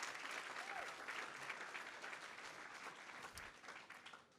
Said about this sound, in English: Let's give another round of applause for all the startups and Danae, please.